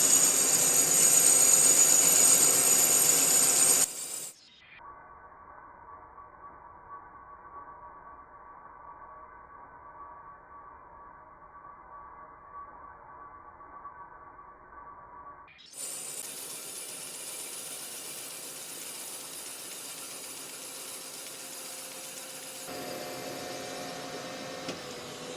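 Valve seat cutter grinding a seat in a Kubota engine head, a steady mechanical ratcheting scrape that runs quieter in the middle stretch and then resumes louder with broadband hiss.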